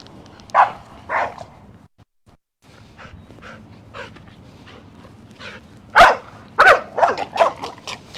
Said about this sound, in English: I'm going to let Captain continue to be reactive.